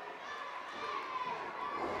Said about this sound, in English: Crowd very much in approval of what they're seeing now